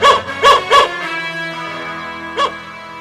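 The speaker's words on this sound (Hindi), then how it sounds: "भौंक भौंक कर कुत्तों के पेट दुखने लगे" Village dogs bark at a wedding procession: three quick barks in a row, then one more after a pause, heard over a steady sustained musical drone.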